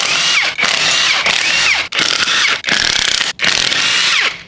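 A cordless impact wrench rattles lug nuts off the wheels of a Toyota Tacoma during a 35-inch tire install, firing in loud, close bursts of rapid hammering separated by brief pauses.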